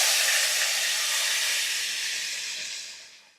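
Tomato dropped into smoking-hot oil in an enamelled cast iron pan gives a loud, steady sizzling hiss that slowly fades away over about three seconds, with no talking.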